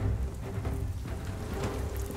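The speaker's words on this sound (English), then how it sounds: "All this rain is fucking with everything." Rain in the Call of Duty Vanguard campaign: a continuous, dense patter of falling rain with a low rumbling undertone, steady and moderately quiet, with no voices.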